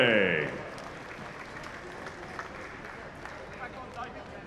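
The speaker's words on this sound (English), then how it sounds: "one more round of applause for Regis Prograis" Crowd applause for a boxer at a live workout, a brief loud start after an announcer's voice, then a lower ongoing clapping and crowd murmur.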